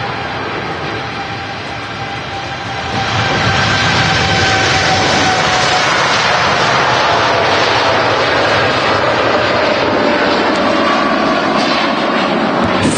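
TUI Boeing 787 Dreamliner departing Manchester Airport, bound for Montego Bay, Jamaica: a loud, sustained jet engine roar that swells after a few seconds and then holds steady and powerful, with faint whining tones riding on top and no talk.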